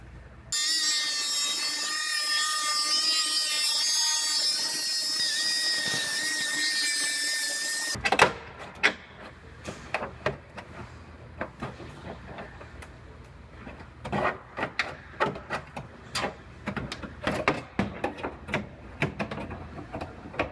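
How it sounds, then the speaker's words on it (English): A blade or power tool cuts along the inside edge of tape, giving a steady high whine for several seconds, then irregular rasping, scraping strokes close by. "then I'm gonna cut right on the inside edge of this tape"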